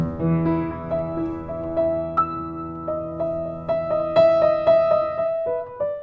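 Piano plays a short melodic phrase from Für Elise, single notes alternating between hands in a gentle, evenly paced rhythm, clear and close with no talking.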